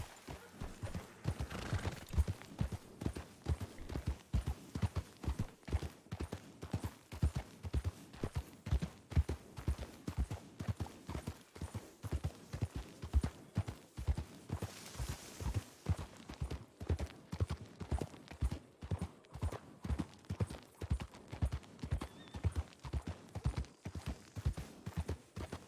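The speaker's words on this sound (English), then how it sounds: "I heard a horse." Horse hooves clip-clopping in the Red Dead video game, a steady rhythmic run of many close hoofbeats lasting throughout, with an occasional faint whinny and no talk over it.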